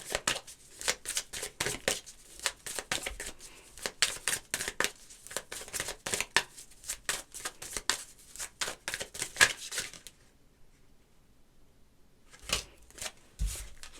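Oracle and tarot cards shuffle in a rapid run of dense, crisp riffling flutters for about ten seconds, then a short pause before a few more quick card snaps.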